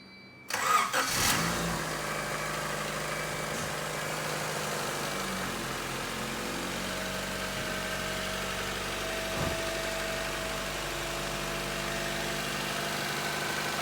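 A Honda D-series engine (D16/D15, Civic Del Sol or CRX) freshly given a valve adjustment cranks and catches almost at once, then settles into a steady, fairly quiet idle that runs alone and close by.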